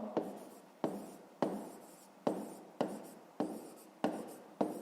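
A pen writing on paper during a fifth-grade maths exercise, eight evenly spaced scratchy strokes each starting sharply and trailing off, close-up and quiet with no talk.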